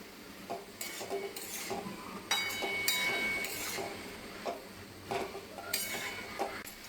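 Broad beans tossed with chili powder in a pan, a utensil scraping and clinking against the metal in irregular strokes, close and moderately loud.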